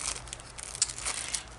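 A protective plastic bag crinkles as a set of wire-cutting craft tools is slid back inside, giving a faint, close-up run of soft rustles with a slightly louder crackle in the middle.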